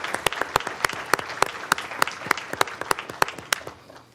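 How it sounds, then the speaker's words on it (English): Audience at a Douglas County commissioners business meeting gives a modest round of applause, distinct separate claps from a small group, steady then thinning toward the end. "if everyone will please join me in a round of applause for these great servants of the people of Douglas County"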